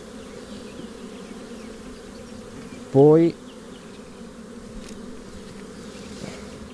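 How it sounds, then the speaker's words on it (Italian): Honey bees buzzing steadily around an opened hive during queen-rearing starter preparation, a low continuous hum with a brief louder rising buzz from one bee passing close, and a single short spoken word. "vedete quante api ci sono."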